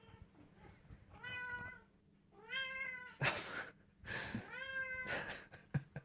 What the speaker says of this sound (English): That is one hungry cat